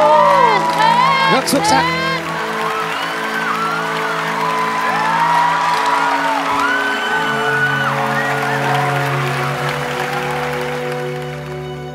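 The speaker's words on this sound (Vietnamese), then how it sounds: "đề nghị khán giả cho bạn Thế Anh một tràng vỗ tay" A studio audience applauds and cheers for young contestant Thế Anh after a geography face-off on the Vietnamese TV quiz show Siêu Trí Tuệ. Steady clapping and whoops run throughout under loud music, while a host speaks over them.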